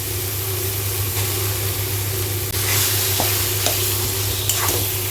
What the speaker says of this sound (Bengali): এরপরে আমি কলা ফুলটা দিয়ে দেবো।